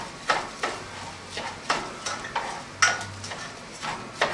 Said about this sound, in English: So we're going to stir it a little bit.